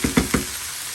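Cabbage is stirred in a hot pan for fried rice, giving three quick close scraping bursts over a steady sizzle with no talking.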